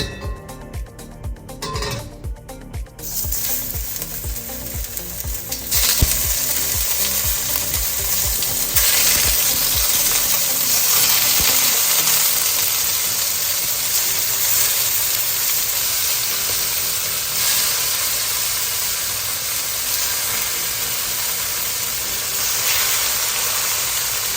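Tofu fries in oil in a smoking-hot wok with a loud, steady, close sizzle, hissing evenly after a few opening clatters and staying dense to the end, with no voices.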